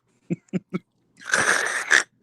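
A man imitates snoring with his voice: three short nasal puffs, then one long, raspy, breathy snore-like rattle, close and fairly loud.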